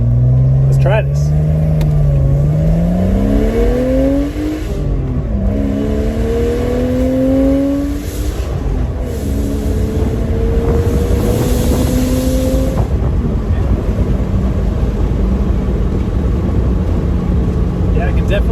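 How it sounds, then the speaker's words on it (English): A Porsche Boxster 986/987 with its intake desnorkeled accelerates from inside the car, the engine climbing through several loud, close revving pulls with a throaty intake note, then settling into steady road noise. "I can definitely hear a difference when accelerating, and it's definitely coming from right over here on my left, directly from the intake"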